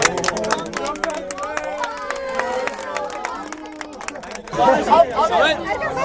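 A group of friends claps and cheers for a friend during a street challenge, with scattered claps mixed under lively shouting and chatter that grows louder toward the end.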